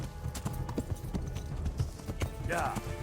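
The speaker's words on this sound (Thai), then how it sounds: "ควบม้าไปเลย" A horse's hooves beat a steady, galloping clip-clop in the medieval role-playing game Kingdom Come: Deliverance, the rhythm running the whole time under a faint game backdrop, with a brief whinny near the end.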